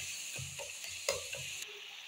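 Tomatoes and spice masala being stir-fried in oil for a dhaba-style chickpea dish, with a steady soft sizzle under a few low scraping strokes of a spoon in the pan and one sharper clink midway.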